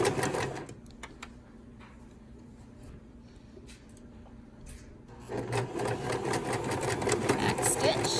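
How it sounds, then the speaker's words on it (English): A sewing machine back stitching a quarter-inch quilt seam: a steady mechanical whir that is quieter at first, then runs louder and continuously in the second half. "and do a 1/4 inch seam on the other side. Back stitching."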